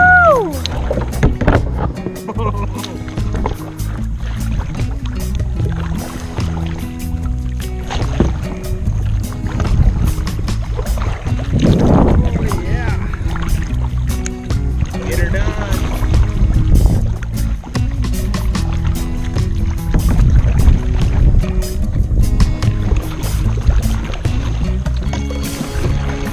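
A canoe or kayak paddled with a single paddle on one of the Chain O' Lakes in Wisconsin, with steady water and boat noise running through the whole stretch and a voice briefly audible near the middle.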